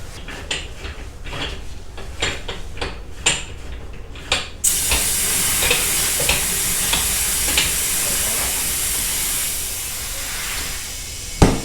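A Goodyear Touring tire, soaped with dish soap, inflates to about 40 PSI on a manual tire changer, a steady loud hiss of rushing air running continuously for several seconds after some faint clatter.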